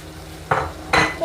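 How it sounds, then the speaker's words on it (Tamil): Fried chicken pieces are tipped into a pan of devilled sauce, Sri Lankan style, making two short, close metallic clatters of pieces and utensil against the pan, followed by a brief ringing touch. "இப்போ இதில் பொறித்து எடுத்து வச்சுருக்கேன் இந்த சிக்கனையும் இதில் போடுறேன்"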